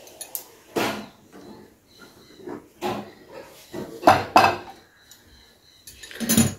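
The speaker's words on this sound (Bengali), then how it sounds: "বসিয়ে দিচ্ছি অন্য একটি কড়াই" A metal kadai set down on a stove after cooking dal, heard as several separate clanks and scrapes of metal cookware, close and fairly loud, with quiet gaps between them.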